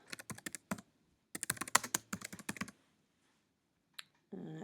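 Alt text being typed on a computer keyboard, two quick bursts of crisp, close key clicks separated by a pause, followed by a single tap and a brief final noise.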